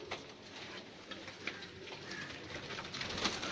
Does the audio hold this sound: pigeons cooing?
yes